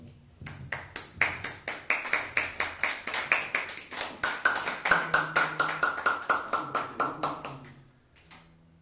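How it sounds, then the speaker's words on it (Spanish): An audience at a talk at the Oratorio of Saint Philip Neri in Puebla welcomes a speaker with clapping that falls into a crisp, even rhythm of sharp, ringing claps, then stops abruptly near the end. "Lo recibimos con un fuerte aplauso."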